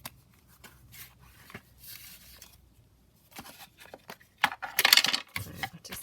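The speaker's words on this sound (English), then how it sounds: "let me just quickly ink this card up" A journaling card being inked with an ink pad, heard as soft dabbing and rubbing taps that build into a louder burst of brushing, scuffing contact near the end, close and with no speech.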